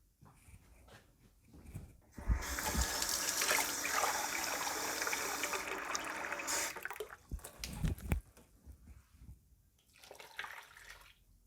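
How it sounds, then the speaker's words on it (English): Hot water pours into a bowl in a loud, close, steady rush lasting several seconds, then thins to a trickle and a few splashes and drips, with quieter handling noises before and after. "hot water in the bowl."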